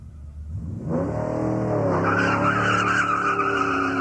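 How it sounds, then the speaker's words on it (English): A drag car launches hard at a Summernats event with axle tramp and smoking front tyres: a loud, close engine roar climbs in pitch while a sustained tyre squeal runs alongside it. "With an axle tramp, but a good start. Smoke from the front tyres and too short."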